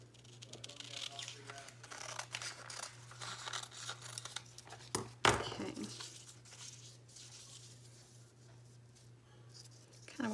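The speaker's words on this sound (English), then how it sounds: "I'm going to cut this doily in half." Scissors cut through a paper doily with soft crinkling and snipping close by, quiet overall, broken by one sharp louder snip or rustle partway through.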